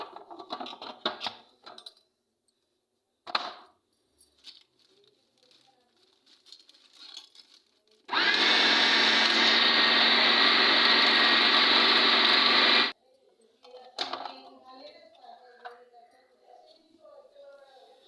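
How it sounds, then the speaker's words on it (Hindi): A mixer grinder whirs loudly and steadily for about five seconds, grinding a coarse shami chicken kebab masala finer. Quieter kitchen clatter comes before and after. "तो अभी ये थोड़ा सा यहाँ मोटा था तो मुझे थोड़ा सा और मज़ीद इसको पीसना था।"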